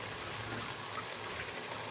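Water poured into a pan of roasted chickpea masala for Lahori chikar cholay, a steady broadband gush running loud and unbroken throughout with no voices.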